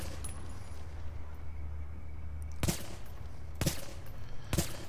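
Three sharp, separate pistol shots ring out at spaced intervals in The Division video game as lights are shot out, each a loud, close crack over a low steady background hum.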